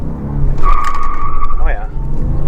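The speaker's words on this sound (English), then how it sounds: "Well, let's see if we can spin the tires." A 1990 Toyota Supra Turbo in first gear spins its tires with a brief high squeal over a loud, close engine drone. Someone talks over it.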